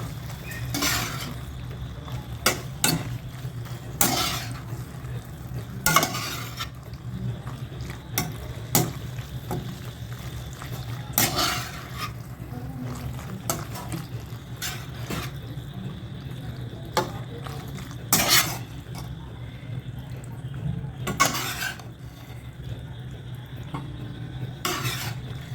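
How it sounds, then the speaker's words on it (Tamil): Boiled pasta being stirred in a pan for an easy hotel-style dish, with a steady low cooking hum and repeated scraping, clinking strokes of a utensil against the metal pan at an irregular rhythm, close and clear. "அப்படியே கிண்டி விட்டுருங்க"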